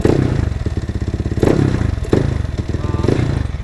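Yamaha NMAX scooter engine running with its pulley removed, giving a loud, close, rough rhythmic clatter with steady mechanical knocking and periodic heavier thumps as it revs.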